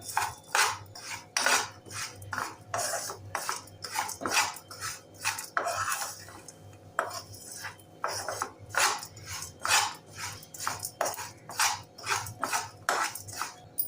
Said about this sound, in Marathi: आता हे परतून घेऊया